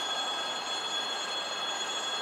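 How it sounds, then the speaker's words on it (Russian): An electric commuter train pulling away from a station platform, a steady broadband rush of wheels and traction hum with a faint high whine, continuous and fairly distant, no voices. "Электричка только что ушла, все, никого нет."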